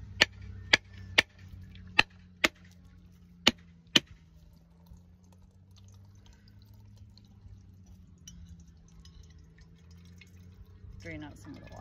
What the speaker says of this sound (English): So let's crack it open and see what we got.